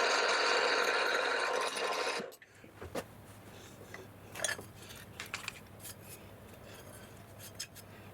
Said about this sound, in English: Now drilling a 6mm hole.